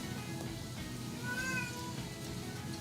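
A cat gives a single short meow, with a rising and falling pitch, partway through a steady low household hum. The meow is moderately close and fairly quiet, and no one talks over it.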